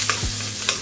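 Onions brown in a frying pan for a tofu and vegetable stir fry, a brief close sizzle with two quick stirring scrapes.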